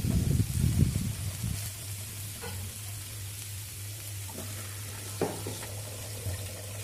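Pre-cooked frozen vegetables being tossed in a hot pan for broken wheat porridge, a soft sizzle with a few scraping stir clicks over a steady low hum, close and without talk.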